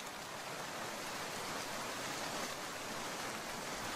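Steady cartoon rain pours down in a dense, even hiss that fills the whole stretch at a constant level, with no voices over it.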